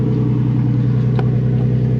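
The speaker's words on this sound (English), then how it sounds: "We'll get a little clip of revving it." A Lexus IS200 with a newly welded exhaust idles with a steady, loud low drone, a brief blip of rising revs near the middle standing out over the continuous engine note.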